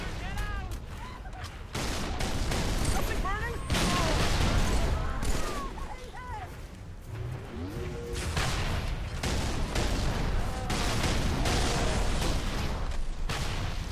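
Gunfire and explosive bursts in a Halo 3 battle on Tsavo Highway, a dense, continuous clatter of weapons with chattering alien voices woven through, loud and busy throughout.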